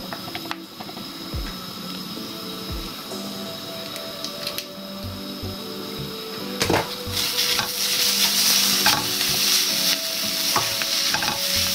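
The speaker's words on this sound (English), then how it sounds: "And now we just want that tomato puree and the garlic to cook through" Tomato puree and garlic cook in a pan for vegan borscht, a steady sizzle under repeated scraping and stirring that grows louder and more intense toward the end, with no voices.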